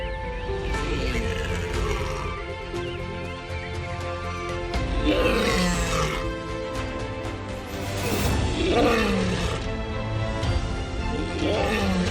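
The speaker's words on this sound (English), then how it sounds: "there's nothing more gorgeous than listening to the sound of a lion roar." A lion roars in the African wild, deep grunting bursts repeating every few seconds over a constant rumble of background noise at moderate loudness.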